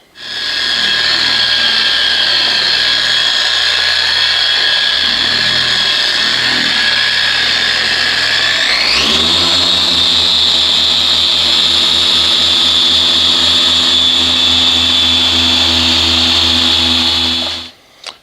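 Porter Cable polisher with a Meguiar's microfiber cutting pad buffing a black 2014 GMC Sierra truck hood: a steady loud motor whine that shifts pitch partway through, then holds a new tone and stops abruptly.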